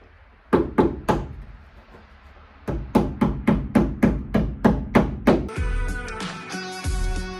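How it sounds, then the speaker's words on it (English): Tapping trim onto the rear window of a Mercedes Sprinter van: three sharp knocks, a pause, then a steady run of about nine evenly spaced taps, close and loud, followed by a brief rattling clatter. "The next thing that we're going to do is put on this trim work, and basically you tap it on."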